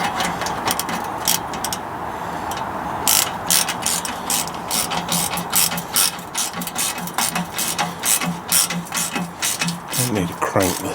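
A ratchet cranks a bolt tight on a Land Rover Freelander 2 during a back box delete, giving rapid close clicking in repeated strokes over a low background hum.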